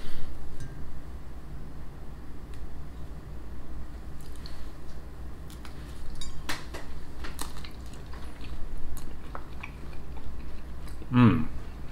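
Someone close by chews chewy orange-scented biscuits from the UK, making soft, moist, squishy bites and mouth sounds over a quiet room, with a few light clicks.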